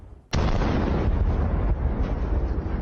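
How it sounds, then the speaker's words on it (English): A Russian armored personnel carrier explodes after a Ukrainian drone enters through an open hatch: one sudden loud blast erupts, then a sustained roaring rumble of fire and debris continues without pause. "The drone entered through an open hatch and caused a massive explosion."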